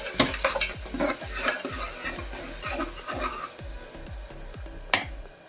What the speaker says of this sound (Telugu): ఇప్పుడు ఇది కొద్దిగా వేగిన తర్వాత చూడండి, ఇలాగా వేగింది